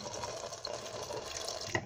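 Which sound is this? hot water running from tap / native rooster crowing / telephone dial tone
hot water running from tap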